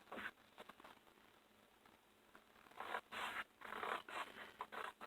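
Card stock scraped and sliced down to a score line for a handmade card, giving a faint, gritty, zipper-like rasp that comes in bursts and grows busier toward the end, with no voices.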